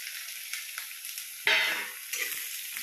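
Onions fry in hot oil in a pan, a steady close sizzle with a sharp louder burst midway as more go in, with no talking.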